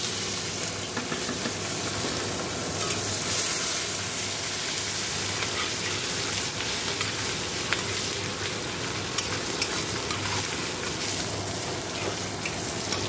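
Onion sizzles steadily in hot oil with black cumin and dried chilli in a home kitchen, a continuous close frying hiss with occasional stirring scrapes.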